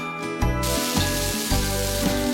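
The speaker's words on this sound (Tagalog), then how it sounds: "Magigisa muna tayo ng sibuyas" Onions sautéing in a pan for pares, a steady close sizzle with a few soft stirring scrapes and no talking.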